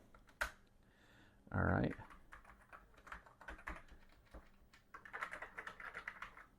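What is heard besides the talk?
typing on an Atari ST computer keyboard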